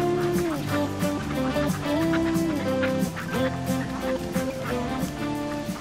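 Ducks and other waterfowl call repeatedly on open water, a busy layered chorus of honking quacks close by, with some faint human voices mixed in.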